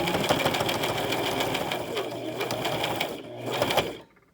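Sewing machine stitches elastic onto a fabric face mask in a steady, close whirring run for about four seconds, then stops abruptly into quiet.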